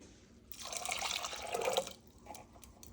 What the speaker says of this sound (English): I'm gonna add some water to this can